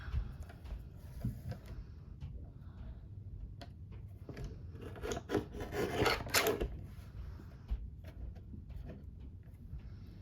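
Scissors or a blade trim excess washi tape from the edges of an acetate sheet, making close, dry rasping and rubbing sounds that build to a denser scratchy burst midway, with no talking.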